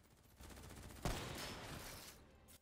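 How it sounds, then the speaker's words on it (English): Gunfire rattles quietly in Call of Duty: Black Ops 3, with a sharper hit at about one second over a dense, steady background of combat noise. "Who's shooting?"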